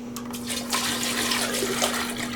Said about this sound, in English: Now we'll do a final addition of sugar water